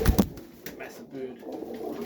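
Pigeons gather at a feeder on a frosty day, with a loud burst of fluttering or cooing up close at the start, followed by softer, low cooing murmurs over faint background noise.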